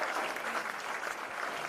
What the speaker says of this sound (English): another huge round of applause for all of them